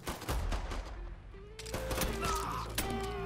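Gunfire in the video game Mafia 3 comes as a few faint, scattered shots and thuds under in-game music.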